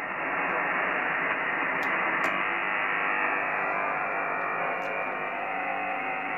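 Dense, hissing radio interference noise, steady and fairly loud, with the noise canceller switched off; a few faint clicks punctuate the static.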